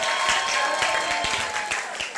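Audience applause during a speech, a dense, sustained wash of clapping from a crowd with a few sharper individual claps standing out, holding steady throughout.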